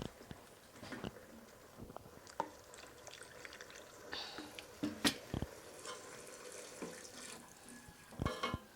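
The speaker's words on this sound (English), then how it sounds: "So I'm gonna add water." Water is added to ogbono soup cooking in a pot, heard as faint, irregular pours, splashes and stirring clinks close by, with quiet gaps between them.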